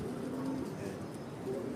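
An off-colour pigeon coos softly inside a loft, a low, quiet call over steady background noise.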